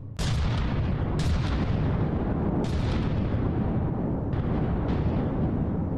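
Continuous heavy flak cannon fire from battleships in the naval combat game From the Depths, a loud dense roar of overlapping blasts with sharp new bursts punching through about every second or so.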